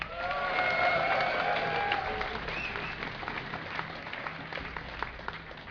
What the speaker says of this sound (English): make some noise for LiquidTyler